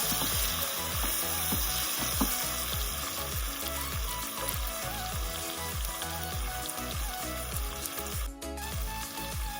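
Tomatoes frying in a pan for vegetable dal khichdi give a steady, close sizzle with rhythmic stirring scrapes throughout.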